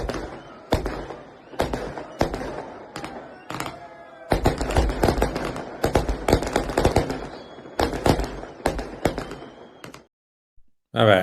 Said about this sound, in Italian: è un minuto di fuochi d'artificio che sono bellissimi